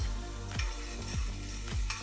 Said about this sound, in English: heat the butter in a pressure cooker, add garlic, ginger, and let it sizzle